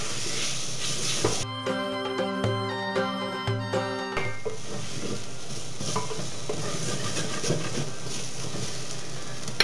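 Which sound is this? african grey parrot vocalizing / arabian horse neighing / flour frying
flour frying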